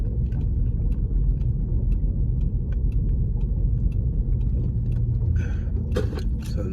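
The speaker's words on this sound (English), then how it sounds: "So now I gotta drive slow" A car drives slowly along a road, its engine a steady low rumble with continuous road and tyre noise close by, and a few faint sharper sounds near the end.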